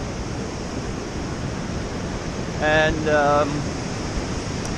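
A steady, broadband rush of a river flowing past a dam fills the whole stretch, loud and unbroken, beside a bridge, with a brief spoken word partway through.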